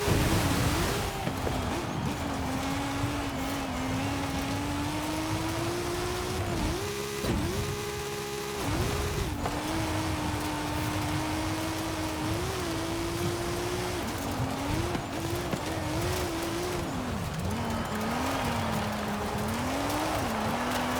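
A widebody Toyota GR Yaris in Forza Horizon 5 revs hard and steadily, its engine note rising and falling with brief gear-shift dips, loud and close throughout.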